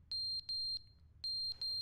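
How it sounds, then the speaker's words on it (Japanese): An alarm device in The Stanley Parable video game emits sharp, high electronic beeps in quick pairs and singles, loud and clean over a quiet low rumble. "なんか警報装置っぽいかも。"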